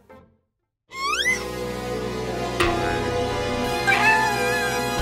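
A cat gives a loud, close, rising meow after a moment of silence, followed by further drawn-out meows and cries with a steady background hum.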